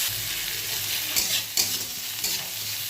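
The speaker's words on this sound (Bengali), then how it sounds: "একটু নাড়াচাড়া করবো" Neem leaves frying in oil with a little salt and turmeric, a steady close hiss of sizzling broken by a few scraping stirs of the spatula, no talk.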